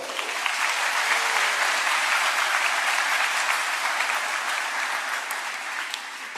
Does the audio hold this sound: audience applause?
yes